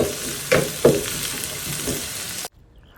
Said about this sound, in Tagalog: Hayaan muna nating mag-translucent yung ating sibuyas.